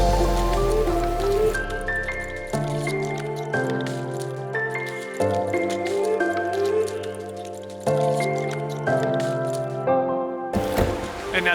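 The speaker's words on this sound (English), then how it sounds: "Hear the rain on that roof" Rain drums on the roof of a 2019 Suzuki Jimny parked at Mavora Lakes, New Zealand, a loud steady patter heard from inside the cabin, with tonal layered sounds running throughout.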